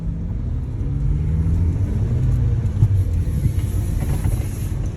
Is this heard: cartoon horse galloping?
no